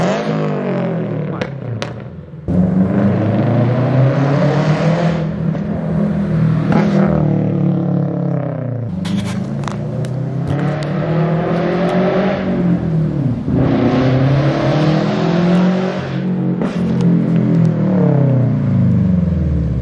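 A Subaru BRZ fitted with a UEL header and Tomei exhaust drives past, its loud, raspy engine note rising and falling through repeated revs and gear changes, heard alone and carrying from a distance.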